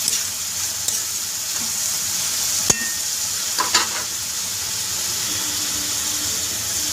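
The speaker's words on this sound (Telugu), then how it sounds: "ఇప్పుడైతే కలుపుకొని మూత పెట్టేసుకుందాం" A spoon stirs mutton keema with sorrel greens and onions in a pan, clinking and scraping now and then over a constant soft sizzle. Each utensil knock is sharp and close.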